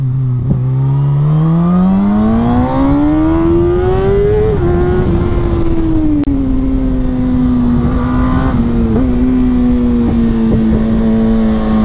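A Kawasaki ZX-6R sport motorcycle accelerates hard from the rider's position, its engine note climbing steeply then holding a high, strident whine with brief shifts, loud and close with wind rush underneath.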